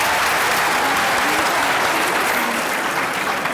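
A studio audience at a televised Eid poetry-duel competition breaks into loud, sustained applause, thick and unbroken from start to finish.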